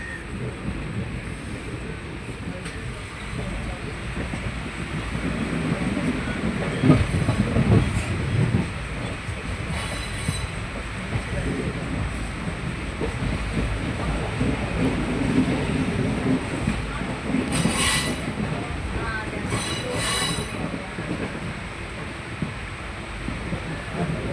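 A train passes on the railway line near Shoranur junction, where goods trains wait on a loop line. A steady rumble with wind buffeting swells and fades over about twenty-four seconds.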